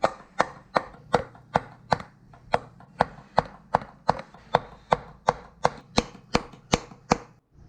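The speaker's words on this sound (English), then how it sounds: "Gonna have to tap this into place." An engine part on a Datsun L24 inline-six is tapped down onto tapered alignment pins, giving about sixteen sharp, evenly spaced knocks, each ringing briefly, close and clear with no talk.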